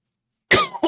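A person recovering in hospital gives one sharp cough, then a shorter second cough just after, close and alone after silence.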